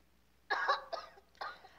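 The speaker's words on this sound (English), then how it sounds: "seeing her coughing, holding her neck while gasping for air" A woman coughs in the Seduce Me 2 game. There are three harsh bursts, one long and two shorter, spaced about half a second apart, close and fairly loud over a quiet background.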